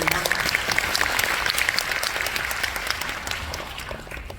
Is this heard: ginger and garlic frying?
no